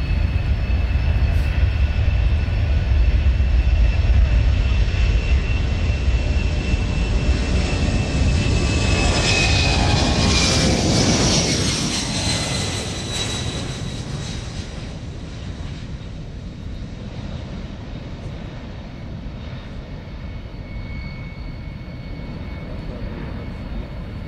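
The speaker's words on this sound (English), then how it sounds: "Oh, the wonderful C-17. Such a spectacular aircraft." A C-17 military transport aircraft passes overhead with a loud, sustained jet roar that builds to a peak around mid-pass, then recedes into a steady, fainter rumble as it moves away; no talking.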